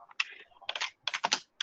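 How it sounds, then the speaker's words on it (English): Computer keyboard keys being typed in short bursts, a command entered at a command prompt, close and fairly loud with brief pauses between clusters of keystrokes. "Type num space off"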